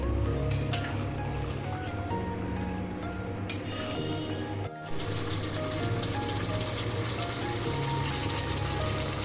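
Marinated chicken sizzles and fries in hot oil in a pan for a Bengali-style chicken curry, a steady close hiss continuing with a brief dip partway through.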